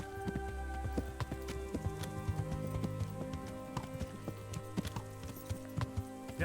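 Horse hooves clip-clop through the whole stretch in the medieval game Kingdom Come: Deliverance, steady and close, with music and ambient game sound running underneath.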